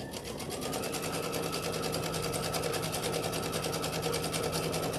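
A sewing machine stitches a seam without fabric beneath the needle, a fast, even mechanical chatter that runs steadily and close after a brief start-up.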